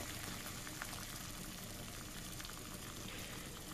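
Water comes to a rolling boil in a pot on a Camping Moon XD 1 turbo stove, a quiet, steady bubbling hiss with faint burner roar, heard close and without talk.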